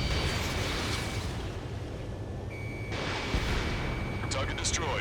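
Missile strikes and explosions in the jet combat game Ace Combat 7, a loud, rumbling blast texture with a sharp impact partway through and a cluster of bright crackling bursts near the end, over a sustained warning tone.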